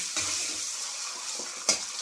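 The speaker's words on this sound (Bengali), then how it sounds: "আমি করে এবার ডিমগুলো লাল লাল করে ভেজে নিতে হবে" Eggs fry in a pan until reddish-brown, giving a steady, soft hiss with faint bubbling and one brief sharper crackle near the end, heard close and alone.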